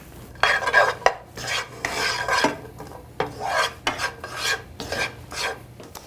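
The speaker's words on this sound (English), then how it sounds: "just saute the onion for about 2 minutes or until it's softened" Chopped onion sautéing in a tablespoon of oil in a saucepan, heard as steady close scraping and stirring strokes of a utensil over a soft sizzle, with no talk.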